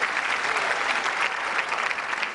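A studio audience clapping together, a dense burst of applause that stays steady and close for a couple of seconds with no talk over it.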